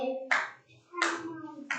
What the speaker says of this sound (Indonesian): Beri tepuk tangan kelompok 1.